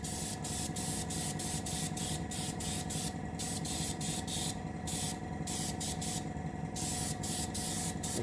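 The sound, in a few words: spraying varnish on a submarine model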